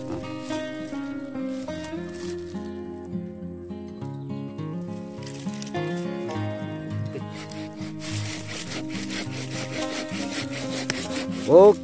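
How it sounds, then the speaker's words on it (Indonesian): Wood being chiseled and smoothed at a cultivation site, a steady rubbing and scraping texture running throughout under dense background music, with a brief louder scrape near the end. "Ini ada dipahat sedikit nih. Diratakan maksudnya ya."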